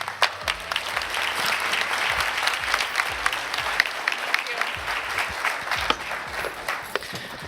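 A live audience claps in a steady burst of applause that fills the room, dense and sustained with a few sharper individual claps standing out.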